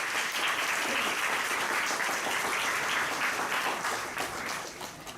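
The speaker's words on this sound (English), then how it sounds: "Can we have a round of applause for him," An audience at a memorial lecture applauds to welcome a visiting astrophysics professor, a full, even round of clapping from many hands that gradually thins and fades toward the close.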